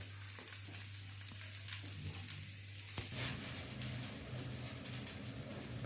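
Dosa cooks in ghee on a hot pan, a soft steady sizzle and crackle at close range that continues quietly throughout with no talking.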